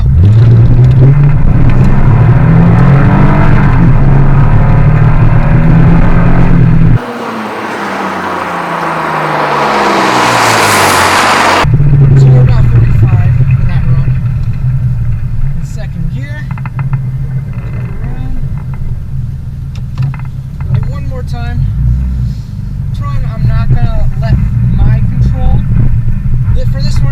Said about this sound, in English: let's get the car up on the hill